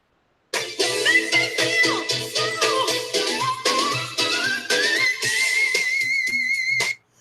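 A high, thin whistle-register vocal tone slides upward and then holds, attempted in a podcast setting over a steady backing of music or room sound, loud and close for several seconds.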